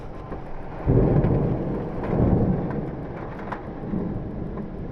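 Heavy, steady rain roars throughout, with deep rumbles of thunder swelling in waves; no voices.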